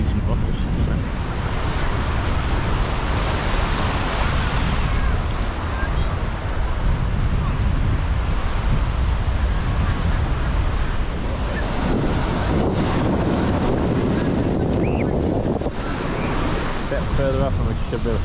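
Waves breaking on the beach at Charmouth on the Jurassic Coast as the tide goes out, a loud continuous roar of surf heavily buffeted by wind on the microphone.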